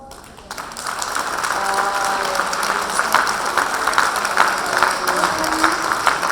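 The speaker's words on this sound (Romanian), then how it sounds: "Aplauze, dragii mei" A crowd claps at a Mărțișor celebration held by a Moldovan community in Padova, the applause building quickly into a loud, sustained, even patter with faint voices mixed in.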